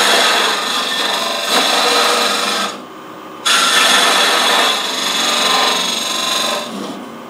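A lathe tool hollowing a sycamore hollow form down a drill channel gives a loud, harsh scraping rasp in sustained bursts, broken by a brief near-silent pause and a dip near the end.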